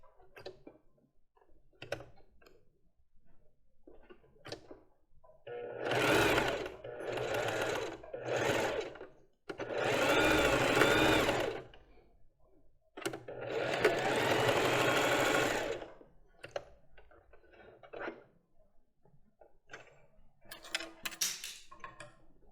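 Sewing machine stitching a basic lace bra strap, running in several loud sustained bursts of whirring stitches separated by short pauses and handling noises.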